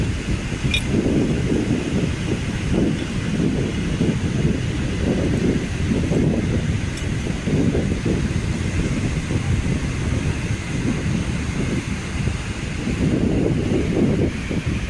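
Sea waves and strong wind at Puri beach on the Odisha coast, a loud continuous roar with rolling surges of surf under heavy wind buffeting the microphone, no speech.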